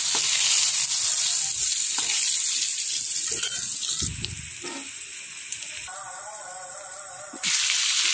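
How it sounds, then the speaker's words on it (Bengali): Brinjal (eggplant) slices fry in a pan with a steady, close, bright sizzle of hot oil that holds throughout, with faint clinks and shifts partway through and no talking. "এরপরে কি বেগুন ভাজবো আর কি, তার জন্য দেখুন বেগুনগুলো দিয়ে দিচ্ছি খুব সুন্দরভাবে"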